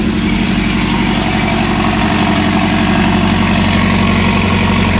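A matte blue sports car engine idles, a loud, close, steady low rumble with an even pulsing throb that holds unchanged throughout, with no talk.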